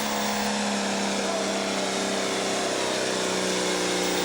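A Fordson Major tractor engine revs hard at high RPM during a tractor pull, a steady, loud, unbroken mechanical roar holding the whole stretch with no pauses.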